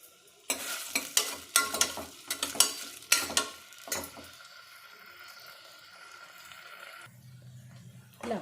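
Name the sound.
onions and green chillies frying in hot oil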